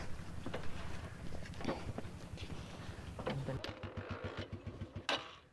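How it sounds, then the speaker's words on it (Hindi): A self-start motorcycle in cold weather cranking and struggling to fire, a quiet rapid chugging turnover that sputters in uneven bursts, heard faint and from a distance. "सर्दी में मोटरसाइकिल जो है ये वैसे तो ये सेल्फ स्टार्ट है, लेकिन सर्दी में बहुत मुश्किल से स्टार्ट होता है"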